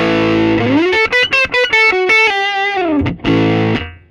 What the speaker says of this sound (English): So here we have the VS20C with the distortion.